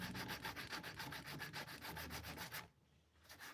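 Steady rhythmic sanding on a wooden instrument during finishing, a close scratchy rubbing that pulses back and forth, pausing briefly near the end before resuming.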